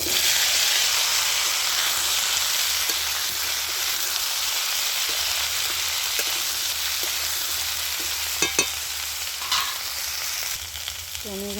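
Cut eggplant and potato hiss and sizzle loudly in hot oil seasoned with fried bay leaf and five-spice, a steady dense crackle throughout, with a few clinks of stirring near the end.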